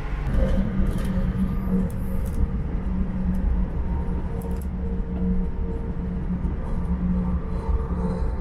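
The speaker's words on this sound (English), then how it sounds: "Such a nice train, yeah?" Steady low rumble inside a moving Arlanda Express airport train, with a constant hum of rolling wheels and faint higher clatter, heard alone without talk.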